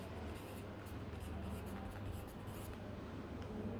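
Pen scratching on a notebook page while writing out a date and weekday, a soft continuous scribbling with faint rustle, steady and close.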